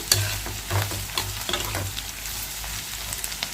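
Sliced onions fry in a pan for a green chili potato dish, with a steady close sizzle and several sharp scraping stirs near the start, then a quieter, even frying hiss with no voices.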